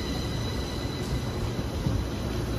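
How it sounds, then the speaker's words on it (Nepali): A train pulls into a station in Japan, a steady low rumble and rail noise holding evenly at moderate distance, with no talk. "ट्रेन चाहिँ आइसक्यो"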